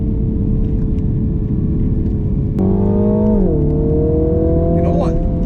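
Mini Countryman John Cooper Works 2.0-litre 306 hp engine pulls hard, a steady loud drone climbing in pitch with a gear change midway, a low grunt over road roar inside the cabin.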